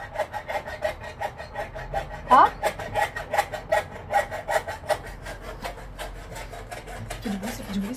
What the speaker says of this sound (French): Il est en train d'installer les moustiquaires.